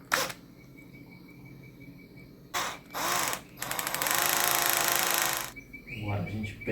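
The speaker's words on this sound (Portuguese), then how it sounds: "A ideia foi furar a pinha aqui." A power drill bores into a pine cone outdoors, with short whining bursts and a longer grinding run of the bit. A crow-like caw and voices are heard around it.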